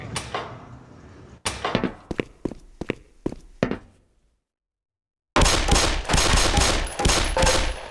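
Pistol fired at targets on a shooting range in Black Mesa's hazard course: a few sharp single shots, then a quick series of spaced cracks, a brief silence, and a final run of rapid loud reports.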